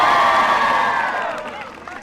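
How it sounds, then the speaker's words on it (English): Graduation crowd of the class of 2015 cheering, a loud burst of whoops and shouts that swells at once then fades over two seconds. "This is when you guys cheer."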